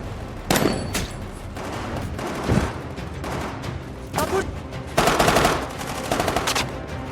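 Film battle scene against Taliban fighters: bursts of automatic gunfire and heavy RPG blasts, loud and close, in repeated volleys with short lulls, with faint voices in between.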